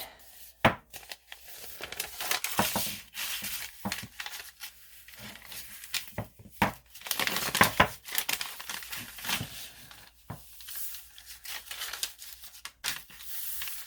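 Piano paper roughly cut by hand during a craft session, giving a string of close, crisp rustles, snips and crinkles that come in uneven bursts and then pause, with no talk over them.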